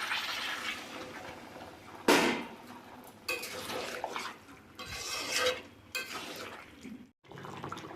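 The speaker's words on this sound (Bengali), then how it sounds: "ওর ভিতরে এই যে জলটা একটু দেবো" Water splashes and pours into a bowl of marinated chicken for a Bengali chili chicken, in several uneven gushes with short pauses, close by.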